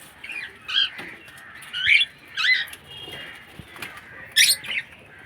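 Birds in a home colony that are being fed beans let out short, sharp squawks. Several separate bursts come close together and close by, over a quiet background.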